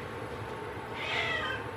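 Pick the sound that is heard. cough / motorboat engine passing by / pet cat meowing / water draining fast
pet cat meowing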